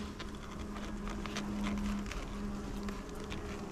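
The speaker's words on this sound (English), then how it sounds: "Got quite a lot of bees on here." Honeybees crawling over a hive frame give off a steady, faint, close buzzing drone, with a couple of individual bees humming slightly higher as they pass, and no talk.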